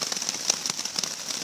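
Rain pattering on a hex tarp strung over a hammock outdoors, a steady, fairly faint hiss broken by scattered heavier drops tapping the fabric.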